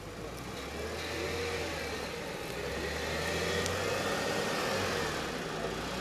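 A Jeep 4x4 engine revs steadily as it climbs a crest during a 4x4 club challenge, a continuous mid-pitched drone close by and sustained for the whole stretch, with voices talking over it.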